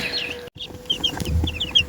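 Farm hens cluck in short, repeated bursts at feeding time, fairly close and moderately loud, with faint background noise and no talking.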